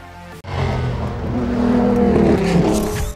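A Jaguar sports prototype race car with a 7.0-litre V12 roars loudly close by, its engine note rising and sustained as it accelerates, with no talking over it.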